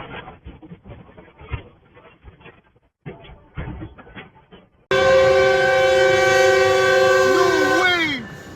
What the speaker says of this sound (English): When you try to beat an approaching train across the tracks